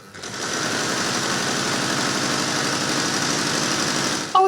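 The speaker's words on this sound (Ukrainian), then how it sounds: "у цьому кабінеті чути звук швейної машинки" A sewing machine stitching flags runs continuously at a steady fast rhythm, close and fairly loud, with a brief click as it stops at the end.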